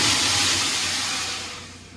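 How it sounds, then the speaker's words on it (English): A relief valve in a building plant room hisses, a loud, continuous broadband rush that slowly fades toward the end, close by and with no talk over it. "that's just the relief valve back there"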